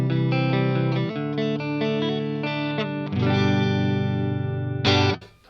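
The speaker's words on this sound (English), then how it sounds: "With the reverb switched off, the telly into the Vox sounds like this." Fender Telecaster electric guitar played clean through a Vox amp with reverb off, a series of plucked chords and notes ringing in turn, bright and dry, ending with a sharp strum that cuts off abruptly.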